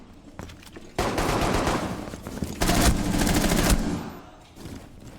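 Enemy automatic gunfire in a first-person shooter game, two long loud bursts of rapid shots close by, separated by a brief quieter gap with a few scattered shots, no talking.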